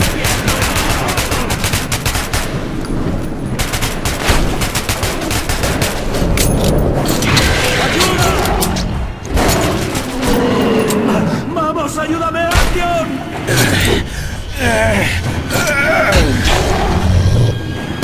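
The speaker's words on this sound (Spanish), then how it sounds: "¡Dispárales! ¡Tú dispara!" Sustained gunfire and explosions from the video game Metro 2033 Redux, loud and nearly continuous bursts with crashes, dense throughout with shouting voices mixed in.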